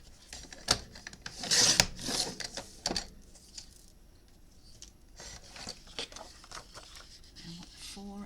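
Deco paper pieces are trimmed to size for a handmade memory book, producing close scratchy cutting and rubbing bursts early on, then quieter handling sounds with brief speech near the end.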